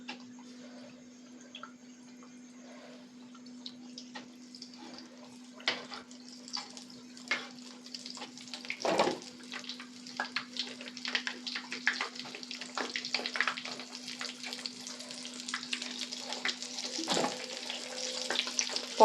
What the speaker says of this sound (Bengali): এবার ভালো করে তেলে ভেজে নেব।